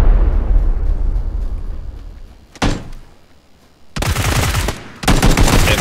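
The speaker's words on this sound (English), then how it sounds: "Oh god, I'm getting shot." Gunfire in a PUBG match: a rumbling noisy background, then a sharp crack, followed by two loud dense volleys of rapid shots close together, with no voice.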